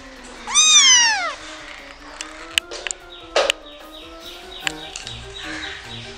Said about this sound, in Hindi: हमारी कितनी प्यारी प्यारी किटन देख लो आप